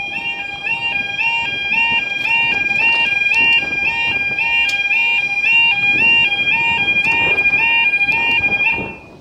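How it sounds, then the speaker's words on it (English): A flat tone alarm sounds at a rural level crossing in Nottinghamshire, a steady high electronic tone with a repeating warbled pattern running continuously for about nine seconds before cutting off. "Sound a bit like a flat tone alarm on the other side."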